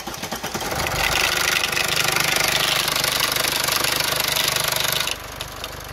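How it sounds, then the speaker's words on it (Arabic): Steady car engine running with a metallic rattling clatter from a worn timing chain layered over a low hum for about five seconds, then the noise drops to a quieter idle. "اسمعوا مليح الحس اللي راح يديره الموتور، تقول عليه راح يكولي"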